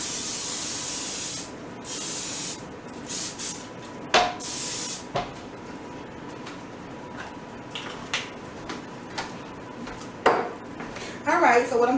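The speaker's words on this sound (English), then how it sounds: "spray it with some of this vegetable oil spray" A can of vegetable oil cooking spray hisses in a couple of short bursts onto a casserole dish, followed by clinks and light clatter of cookware, with a voice speaking intermittently.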